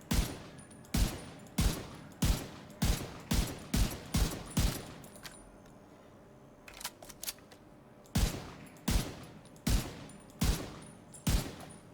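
A TU8 rifle in The Division 2 fires in a steady series of loud, sharp single shots at about two per second. A brief pause breaks the rhythm before the firing picks up again.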